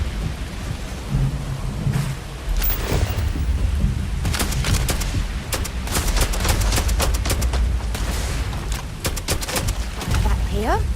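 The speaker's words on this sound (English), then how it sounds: "Did you just throw a grenade at me," A grenade explodes during combat in the video game Starfield. A loud, rumbling blast sits within a dense barrage of sharp gunfire cracks and booming bursts that continue steadily throughout.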